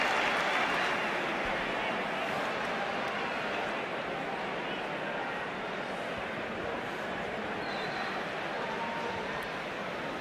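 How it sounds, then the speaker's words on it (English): Dense, sustained crowd roar from a rugby stadium crowd at Thomond Park cheering a Munster penalty try against the Maori All Blacks, a steady wall of cheering that holds loud throughout with slight easing toward the end. "Penalty try, huge cheer around Thomond Park"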